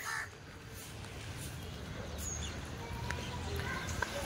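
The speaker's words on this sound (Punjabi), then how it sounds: "ਇਹ ਕਾਂ ਹੀ ਕਾਂ ਆ ਯਾਰ" A flock of crows cawing repeatedly in a village at dusk, overlapping harsh calls scattered near and far over outdoor background noise, with faint voices in the background.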